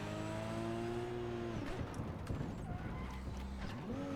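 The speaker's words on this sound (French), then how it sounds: "on peut mettre le bruit de cette voiture" Car engine in the video game Cyberpunk 2077 hums with steady tonal drones that shift pitch as it revs, faint and continuous, with brief talk over it.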